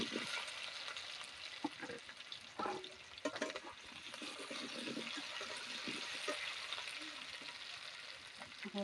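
Potatoes frying in a pan, a soft, fairly quiet crackling sizzle with occasional stirring knocks and scrapes throughout.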